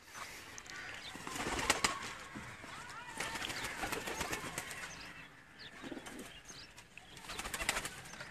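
Sialkoti pigeons coo in a loft, with bursts of flapping wings and soft rustling throughout and voices faintly in the background.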